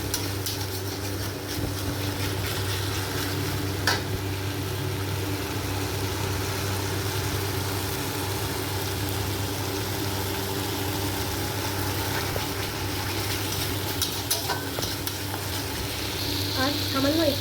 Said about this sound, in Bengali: একটুখানি জল দিয়ে দেবো, দিয়ে ভালোভাবে আবার একটুখানি কষিয়ে নেবো যাতে মশলার ওই কাঁচা গন্ধটা আর না বেরোয় তরকারির মধ্যে